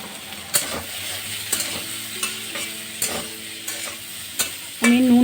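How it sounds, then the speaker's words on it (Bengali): Bitter gourd fries in a pan with salt and turmeric while being stirred, a soft steady sizzle broken by regular sharp scrapes of a utensil against the pan, close and without talk. "আমি নুন হলুদ দিয়ে উচ্ছেটাকে আস্তে আস্তে জাল দিয়ে ভালো করে ভেজে নেব।"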